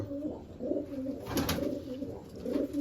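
Pigeons coo softly in repeated low, throaty phrases, close by, with light rustling in the background.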